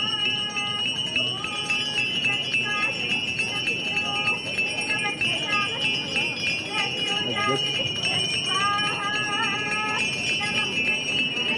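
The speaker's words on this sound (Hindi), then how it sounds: "इस वक्त मां गंगा की आरती की जा रही है" Bells ring continuously during the Ganga aarti ceremony on the river in Kashi, a bright, sustained metallic clanging that persists throughout, with voices and chanting mixed in underneath.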